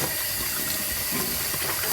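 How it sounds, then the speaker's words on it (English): Cold tap water runs steadily over walnut-dyed yarn during a rinse, a continuous close hiss and splash with no voices. "I'll just run this under cold water"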